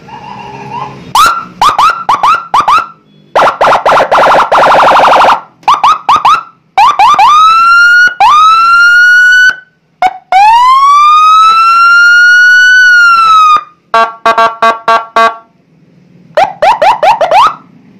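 A loud electronic police patrol siren, a Senken Whelen unit with six buttons fitted to a Mitsubishi Pajero, cycles through patterns: rapid yelps, rising wails and warbling tones, broken by short pauses, close and piercing.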